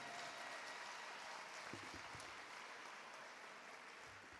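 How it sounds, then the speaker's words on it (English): At the Ginn Academy Class of 2026 commencement, the audience keeps up a dense, even wash of applause from a large crowd, heard faintly and from a distance, with a few low thumps partway through. "you all need to give yourselves a round of applause for this accomplishment today"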